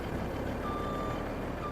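Truck reversing beeps in a Farming Simulator game on an Australian farm map: a steady warning tone over constant loud engine rumble, with no talking.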